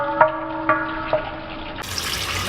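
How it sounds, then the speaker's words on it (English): Coolant drains from a Mazda Miata radiator during a thermostat replacement, a steady close liquid rush joined by a few sharp drips and splashes, then a louder, broader gush in the final stretch. "That's going to allow air to come in and let the coolant come rushing out."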